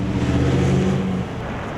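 A sheriff's patrol car maneuvering on a defensive-driving training course gives a steady, close engine drone whose tone drops and eases after about a second.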